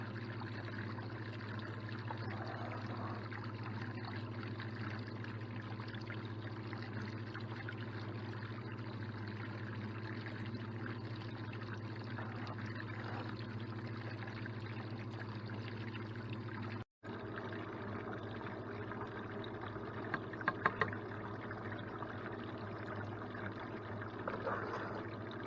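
Water rushes steadily through a gold clean-up sluice, a constant, even flowing wash that cuts out for a moment partway through, with a few faint clinks near the end.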